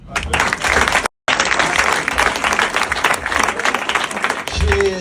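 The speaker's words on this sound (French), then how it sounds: "Ça mérite des applaudissements." A comedy show audience breaks into loud, close applause mixed with crowd noise, sustained over several seconds with a brief cut partway through and voices underneath.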